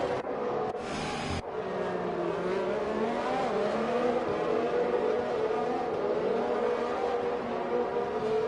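Race car engines roar together at the start of a Belgian Grand Prix race in a racing game, sustained and loud with rising pitch, opening with a brief burst of sharper noise.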